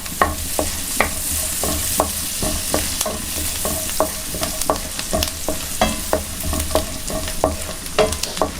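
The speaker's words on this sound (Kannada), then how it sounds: "ಈಗ ಚಿಕ್ಕದಾಗಿ ಕಟ್ ಮಾಡಿಕೊಂಡಿರುವಂಥ ಬೆಳ್ಳುಳ್ಳಿಯನ್ನು ಹಾಕಿ ಚೆನ್ನಾಗಿ ಲೋ ಫ್ಲೇಮಲ್ಲಿ ಫ್ರೈ ಮಾಡಿಕೊಳ್ಳಿ" Chopped garlic frying on low flame for butter garlic chicken: a steady close sizzle with regular scraping taps of a stirring spoon against the pan throughout.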